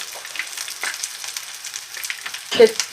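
Foie gras-stuffed oyster croquettes fry in hot oil with a soft, steady sizzle and a brief louder crackling burst near the end.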